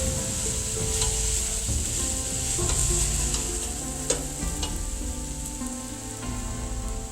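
Ingredients for shrimp pad thai sautéing in a pan, a loud continuous sizzle with occasional stirring taps and scrapes, close up and with no voices.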